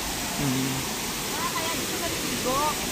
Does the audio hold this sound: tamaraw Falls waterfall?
yes